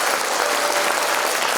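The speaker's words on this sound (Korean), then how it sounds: "이성권 저자에게 다시 한번 큰 박수 부탁드리겠습니다." Dense, loud applause from a crowd at a book launch event in Busan for author Lee Seong-kwon, steady and continuous throughout with no break.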